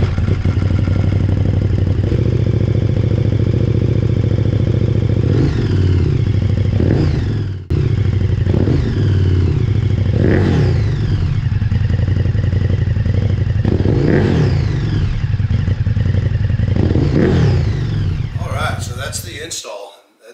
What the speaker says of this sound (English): now let's start it up, see what she sounds like